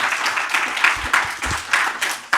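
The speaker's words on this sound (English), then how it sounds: "Everyone give a round of applause." A conference room crowd at a game developer event gives a short round of applause for a speaker, brief clustered claps rising and falling in quick bursts.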